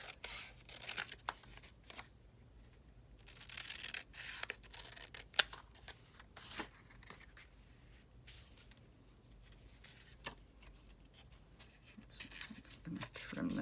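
Scissors snip and rustle through paper in quick, irregular cuts, close by, with some soft handling noise between them.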